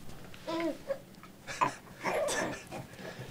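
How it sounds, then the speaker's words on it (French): A baby makes small, soft babbling and cooing sounds in short scattered bursts, close by and fairly quiet, with breathy little noises between them. "J'adore les petits bruits de bébé."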